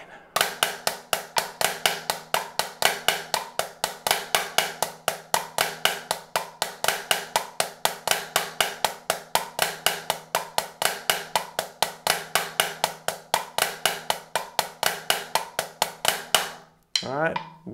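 A snare drum plays the single flammed mill rudiment four times in a row, a fast, even stream of sharp close strokes that stops on a final downbeat, followed by a brief tail of ringing.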